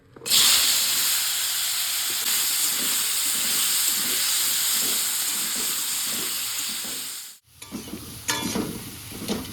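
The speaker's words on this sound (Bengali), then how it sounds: "হলুদ লবণ মাখানো আলুটা দিয়ে দেবো" Potato pieces coated in turmeric and salt hitting hot oil over a ginger, garlic, cumin and dried chilli paste, giving a loud sustained hiss that drops away near the end before spattering and clinks resume, close up, no talking.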